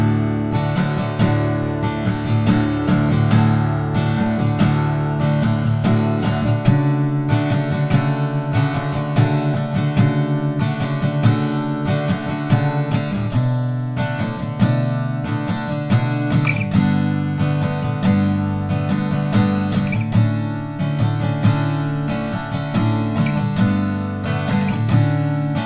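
Acoustic guitar strumming the chords of a song, a steady, even rhythm of full strums played close and alone throughout.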